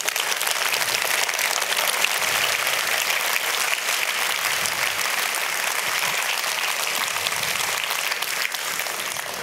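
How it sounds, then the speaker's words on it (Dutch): Sustained applause from a large audience, dense, even clapping that continues without a break. "Maar ik vraag ook een applaus"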